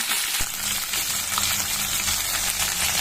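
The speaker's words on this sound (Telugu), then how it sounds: "బాగా వేయించిన తర్వాత బీన్స్, అన్ని వెజిటేబుల్స్ వేసి బాగా వేయించుకోవాలి." Beans and mixed vegetables sizzle and crackle in a hot pan, a dense, loud frying hiss with a brief stir clatter near the start, close up and with no voices.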